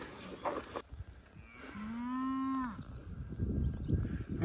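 Cattle moo in a field, one long, clear, close low moo rising and falling over a couple of seconds, with rustling and outdoor noise around it.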